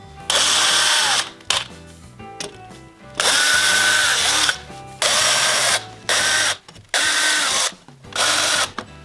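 A power driver with a square bit fastening a double brace metal bracket into timber during an old Japanese house renovation: loud close whirring bursts of a second or two, separated by short pauses and clicks.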